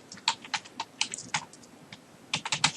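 Rapid keystrokes on a computer keyboard, close and clear in uneven bursts with brief pauses, no voices.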